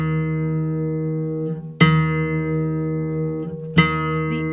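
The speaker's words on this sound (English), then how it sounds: "check your 1st string against your 3rd string and make sure you have a perfect octave" Three-string fretless cigar box guitar with its first and third strings ringing together as a tuned octave, steady sustained tones plucked again twice, close and loud with no talking.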